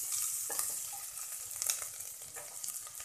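Grated ginger, about half an inch, sautéing briefly in hot oil with a couple of pinches of spice: a steady, bright sizzle with a few stirring scrapes and soft spatters, close and alone without any talk.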